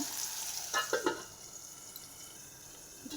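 Upma frying in a pan, soft sizzling with a few short stirring or scraping bursts early on, then a quiet, steady hiss.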